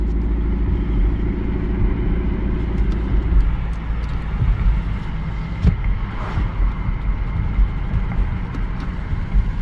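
An Infiniti QX50 with an intake mod pulling away in normal driving, a low engine rumble with a steady hum that fades after a few seconds into rougher road and drivetrain noise, recorded from inside with no talking.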